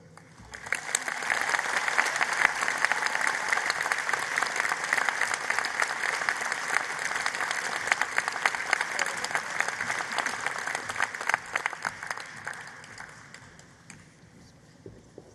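A graduation ceremony audience claps in a sustained, dense round of applause that swells early, holds steady for over ten seconds, then tapers off near the end, with no talk over it.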